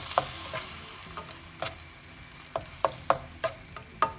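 Stirring chopped tomatoes into frying onions and peppers for pasta arrabbiata: a soft background sizzle broken by sharp spoon knocks and scrapes against the pan, irregular and close.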